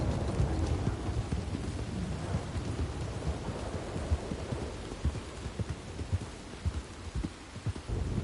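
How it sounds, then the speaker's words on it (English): Steady rain falls in the video game Red Dead Online, a dense, even hiss with low rumbling underneath and scattered heavier drops, with no voices. "How much does it rain in this game?"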